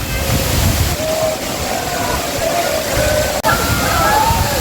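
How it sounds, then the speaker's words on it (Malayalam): Steady roar of rushing, splashing water at Aruvikkuzhi waterfall in Kerala fills the scene continuously, with faint voices and a brief whistle-like tone drifting through. "അപകടങ്ങൾ ഏറ്റവും കുറഞ്ഞൊരു വെള്ളച്ചാട്ടമാണ് നമ്മുടെ അരുവിക്കുഴി വെള്ളച്ചാട്ടം"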